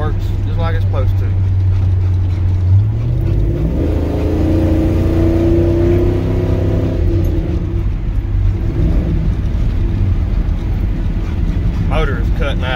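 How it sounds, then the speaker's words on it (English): A 1992 Chevy 5.3 V8 with a faulty sensor runs roughly under load, its steady engine drone rising and falling unevenly in pitch for several seconds, loud and close throughout. "Motor is cutting out, busting up and all that because of that sensor"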